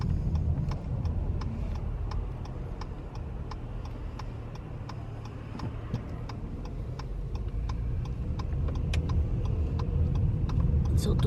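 A car drives through a city, with a steady low engine and road rumble inside the cabin and a regular, evenly spaced ticking throughout.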